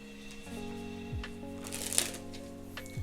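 Playing cards handled close up during a push-off double lift sleight, with soft slides, a brief riffle-like flick and a light snap as the top cards are turned over and flipped back, fairly quiet with no talking.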